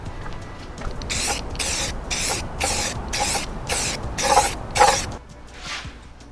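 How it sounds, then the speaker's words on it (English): Aerosol rattle can spraying paint onto a motorcycle part after a mineral spirits wipe, heard as a series of about eight close, loud hissing bursts, each roughly half a second long with short gaps between them, then stopping. "So we'll go ahead and hit this with mineral spirits and then rattle can it."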